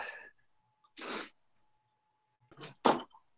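Several short, bursty sneezes or sneeze-like blasts, spaced apart with quiet gaps, close to the listener and fairly soft overall.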